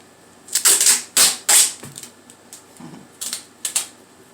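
Duct tape handled and pressed down on a front porch DIY project, several short crackling rips and crinkles in quick bursts, close and fairly loud, then quieter taps, no speech.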